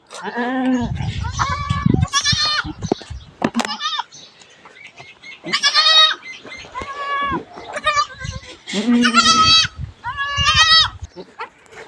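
A nanny goat and her newborn kids bleat repeatedly during kidding on a farm, close and fairly loud, with short overlapping high cries and pauses between them.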